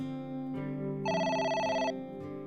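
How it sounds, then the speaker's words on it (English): A telephone rings in the AI The Somnium Files video game, giving a loud, steady electronic ring with a brighter, trilling burst in the middle. "The phone is ringing."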